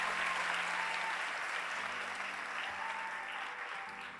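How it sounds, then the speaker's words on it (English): A graduation ceremony audience for the class of 2019 claps steadily, a dense, loud wash of hands that holds for about four seconds and then starts to thin and fade. "so give yourselves a hand"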